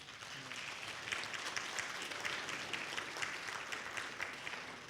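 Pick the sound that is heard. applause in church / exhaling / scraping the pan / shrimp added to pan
applause in church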